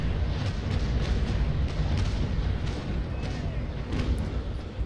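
Ship cannons fire in the naval combat game Naval Action, a dense continuous roar of broadside booms and rumbling blasts layered over steady battle noise.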